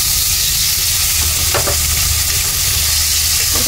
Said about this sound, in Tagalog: Igisa natin ang bawang. Pagsamahin na natin ang sibuyas, bawang.